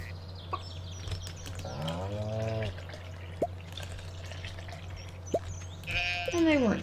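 Goats bleat in the farming video game Stardew Valley, with a drawn-out wavering bleat near the middle and a louder one at the end over a steady low game hum and a few soft clicks.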